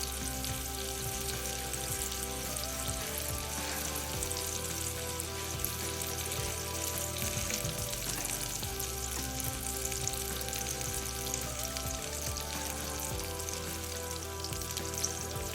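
Salmon fries in a pan with a continuous, dense crackling sizzle that holds steady and close throughout, with no voices over it.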